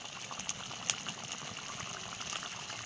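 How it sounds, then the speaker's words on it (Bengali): Rohu fish kalia curry starting to boil in a pan, a soft, constant bubbling and sizzling heard close up, with a few small pops and no voices. "মাছটা ফুটতে শুরু করেছে"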